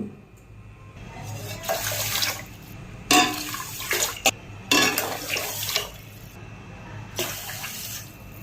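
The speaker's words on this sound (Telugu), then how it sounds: "గ్లాసున్నర బియ్యానికి నేనైతే నాలుగున్నర గ్లాసులు నీళ్లు పోస్తాను" Water is poured by the glass into a pot of rice for temple-style pongal, heard as several close, splashing bursts separated by short pauses.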